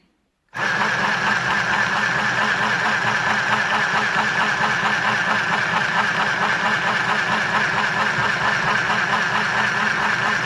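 A mini sewing machine running continuously at steady speed, a close, even, rapid mechanical whir and needle clatter that starts abruptly after a short silence and carries on without talk.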